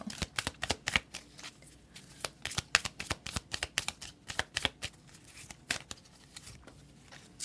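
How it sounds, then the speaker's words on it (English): Oracle cards from a Romance Angels deck being shuffled and pulled, giving quick crisp flicks and riffles in an uneven run of sharp papery snaps, close and fairly quiet, with no talking. "So let's pull 3 cards from the Romance Angels and see what the additional messages are for you."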